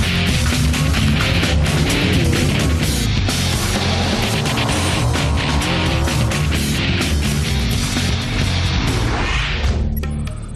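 Ford F-150 pickup with EcoBoost engine roaring across the Baja 1000 finish line in La Paz, a loud, sustained, gritty engine and road roar that stays heavy throughout.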